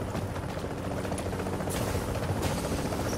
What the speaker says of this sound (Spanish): Helicóptero, ¿eh? 2 segundos, helicóptero.